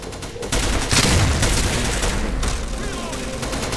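Gunfire from a gun in the video game Battery, a dense crackle of shots starting with a loud burst and continuing steadily under game sounds without a clear gap.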